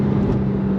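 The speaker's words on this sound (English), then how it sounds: "you have that high revving flat six" A 2004 Porsche 911 GT3 with a high-revving 3.6-liter flat-six engine drones steadily and loudly in a brief, continuous burst.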